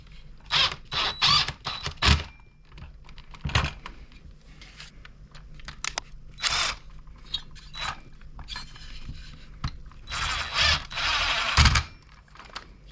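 A part is screwed into a Husqvarna 346 XP chainsaw during a piston and cylinder top-end rebuild, with close bursts of ratcheting, metallic clicks and scraping separated by short quiet gaps.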